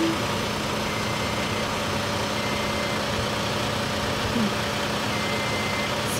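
A big truck idles in a parking lot among heavy machinery, a constant low engine drone with steady hum, loud and unchanging throughout.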